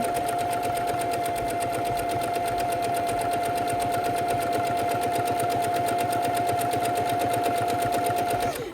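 A sewing machine runs slowly and steadily, stitching an appliqué heart onto a quilting project, with an even, continuous motor whir and rapid needle clatter throughout, close and alone.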